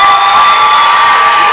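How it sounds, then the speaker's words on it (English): A stadium crowd at a high school football game between the Harrison Goblins and Prairie Grove cheers wildly, a loud, sustained roar of shouts and whoops with no break. "And the crowd's going wild."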